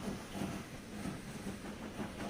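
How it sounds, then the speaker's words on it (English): A passenger train rolls into a station in Transport Fever 2, a soft steady rumble with a faint rhythmic clatter, fairly quiet and continuous. "I think that's a passenger train coming in."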